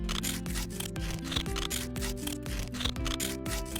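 Cardboard being cut into a half-bat shape for a Halloween garland, with steady close scraping and snipping strokes under faint background music.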